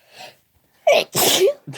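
A single sharp sneeze, close and loud, preceded by a short soft intake of breath and followed by a brief trailing sound.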